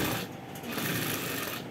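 Sewing machine stitching a seam on a kitchen set with petal shapes, a steady close motor whir with rapid needle chatter running continuously and loud throughout, with no voices.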